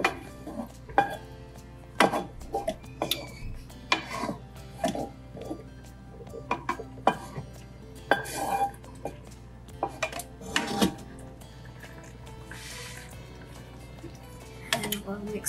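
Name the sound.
browned meat being added to tomato sauce and mixed in a pot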